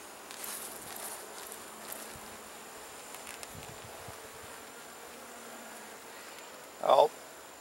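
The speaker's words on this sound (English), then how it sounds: "bump off as many bees as I can, as you just saw there, just by shaking them" Honey bees are shaken off a honey frame during an autumn harvest, a low, steady buzzing hum throughout with a brief louder burst near the end.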